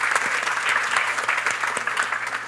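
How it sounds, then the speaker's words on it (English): An audience applauds at a live panel discussion on the ethics of eating. A full, steady wash of many hands clapping fills the whole stretch at close range. "Thank you. You can clap."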